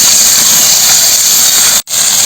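Ridge gourd pieces hit hot oil and sizzle in a loud, steady, close hiss that fills the whole clip, with one brief break near the end.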